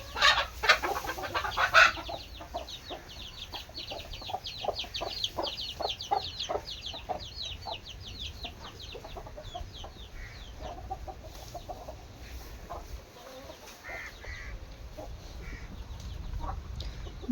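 Backyard chickens cluck in a loose repeated rhythm close by, a busy stream of short calls that fades a little midway, with no talk.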